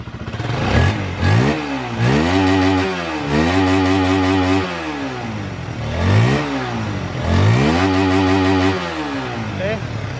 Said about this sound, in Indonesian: Coba saya nyalakan lagi nih, saya tekan lagi di sini.